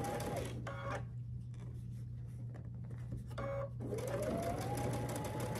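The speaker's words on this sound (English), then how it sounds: "sew down this 1/4 inch seam all the way across these rows" A home sewing machine stitches a quarter-inch seam across the rows of a Churn Dash quilt block, its motor whirring steadily in two bursts separated by a pause, with a brief stop partway through, close and fairly quiet.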